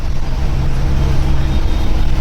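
Steady low rumble of road traffic heard from inside a moving MSRTC red state-transport bus on a rainy Mumbai–Ratnagiri run near Panvel, engine and road noise loud and continuous with no speech.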